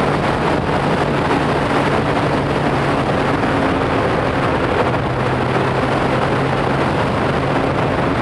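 A 12R motorcycle engine holds a steady drone around 4,000 RPM on a ride, largely buried under loud, continuous wind rush over the microphone, with no talk.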